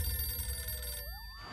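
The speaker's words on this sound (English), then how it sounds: "that phone over there is gonna ring" A telephone rings steadily with a bright bell tone over a low background rumble, ending in a warbling electronic trill.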